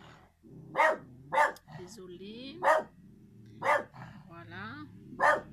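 A dog barks sharply five times at a steady pace, close by, while someone talks briefly between barks.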